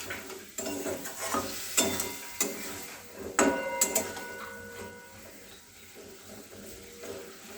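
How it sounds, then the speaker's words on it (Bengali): Masala sautéing and being stirred in a pan, with warm water just added: repeated scraping strokes and bursts of sizzle at a steady working rhythm, close and moderately loud, no talking. "দু 3 মিনিট ভালো করে কষিয়ে নিতে হবে।"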